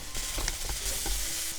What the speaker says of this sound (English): So after a couple minutes of frying like this